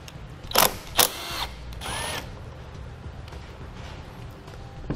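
A ratchet with a 13 mm socket turns a nut on a 2018 Jeep Wrangler during a braking system install, giving two sharp clicking bursts and a quieter ratcheting run, close but faint.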